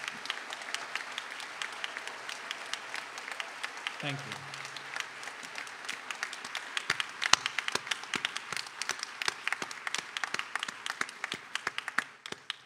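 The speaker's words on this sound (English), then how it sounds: "Can you all please join me in one more round of applause for all of our outstanding professors?" Applause for professors at a university convocation, many hands clapping in a large hall, building from scattered claps to a dense loud ovation, with a brief spoken thanks near the start.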